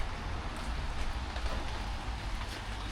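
Steady rain falls in England, a dense, even patter of drops on surfaces that continues without a break, soft and moderately distant.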